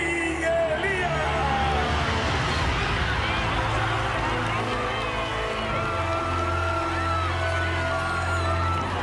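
A large crowd at an outdoor concert stage cheers, whoops and applauds continuously as a singer is welcomed on, a dense roar of voices with a loud announcer talking over it and music underneath.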